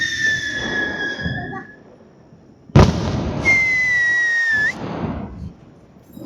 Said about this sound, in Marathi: सगळीकडे फटाके फटाके फटाके वाजताय